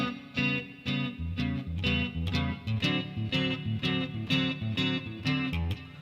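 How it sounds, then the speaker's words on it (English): Electric guitar plays a looped two-chord shuffle, fingerpicked through an effects unit and loop sampler, with bouncy alternating chord stabs in a steady swung groove and no voices. "Measures 55 and 56 are a 2-chord shuffle that he loops and then solos over."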